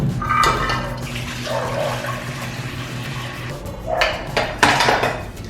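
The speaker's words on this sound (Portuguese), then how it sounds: "Então eu vou encher de água limpa, praticamente 3 litros, para encher o restante daquele pote." Clean water running into a stainless steel pot for brewing kombucha, with a steady splashing rush and a few clanks and metallic knocks of the pot nearby.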